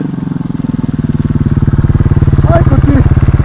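A motorcycle engine on throttle chugs with a fast, regular pulsing beat that grows slightly louder and quicker, heard up close with a brief voice over it.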